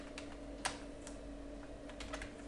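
Keys clacking on a computer keyboard while writing HTML code, a handful of quiet, irregular taps close by with one sharper keystroke.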